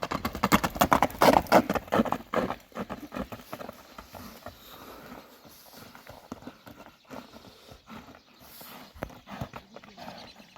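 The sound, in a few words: horse hooves walking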